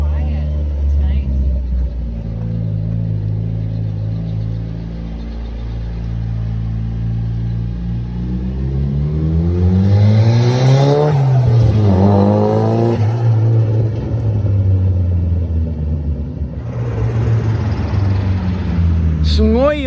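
A tuned Nissan Silvia S14 with an SR20DET turbo engine runs on a dyno, droning loudly at idle before a rev swells up and falls back, heavy and close, with voices talking over it.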